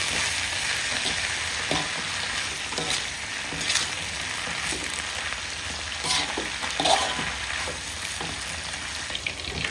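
Yellow velvetleaf (genjer) frying in a hot pan gives a steady, close crackling sizzle with scattered pops and occasional stirring scrapes, continuous throughout with no talking.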